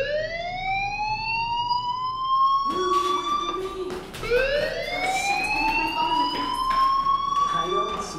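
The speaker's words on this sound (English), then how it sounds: "Hey, do you hear that fire alarm?" A fire alarm wails in the video game Life Is Strange, a loud rising siren tone that sweeps upward twice while a voice speaks over it.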